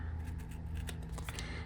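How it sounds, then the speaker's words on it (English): Scissors snip through paper while a journal tag is being made at a craft table, a few short, quiet cuts spaced apart with no talking. "I need some scissors"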